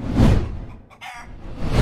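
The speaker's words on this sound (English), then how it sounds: "Chicken!" A chicken, heard within the audio of a game or on-screen graphics shown on a 65-inch Onn Roku TV, gives loud, close squawking clucks in two bursts with a brief gap between them, and no one talks over it.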